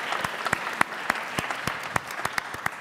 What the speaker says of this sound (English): join me in a round of applause for our wonderful moderator and panelists